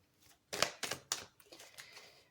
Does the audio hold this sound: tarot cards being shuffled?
yes